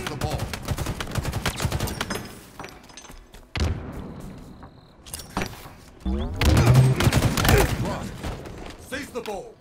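Halo Infinite ranked match gunfire, with bursts of shots and rapid automatic fire coming in clusters, loud and close, alongside in-game announcer calls and other game sounds.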